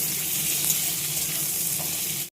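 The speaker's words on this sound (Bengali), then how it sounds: "পেঁয়াজটা ভাজা হয়ে গেছে, লাল লাল করে ভেজে নিয়েছি" Onions frying in a pan with bay leaves and shahi jeera, a steady close-up sizzle and hiss that runs evenly throughout and then cuts off abruptly at the end.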